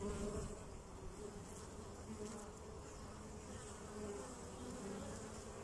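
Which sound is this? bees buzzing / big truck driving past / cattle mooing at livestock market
bees buzzing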